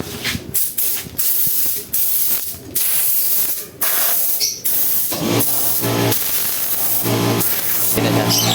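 Compressed air blasting from the air nozzle of a coin-operated 4-in-1 car wash vending machine, a loud steady hissing spray broken by several short gaps and then running continuously, with no talking.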